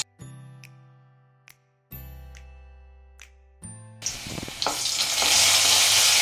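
Chopped garlic and ginger drop into hot oil in a pan after a few metallic clinks and taps, then a loud, steady sizzle of frying builds and continues close by.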